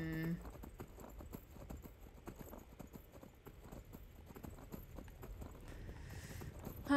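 Steady clip-clop of horse hooves walking at an even rhythm in the video game Skyrim, with a faint musical backdrop and no talking.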